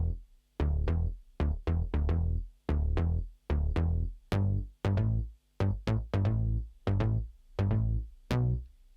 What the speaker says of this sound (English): So the bass sound that I'm using to demonstrate this sounds like this.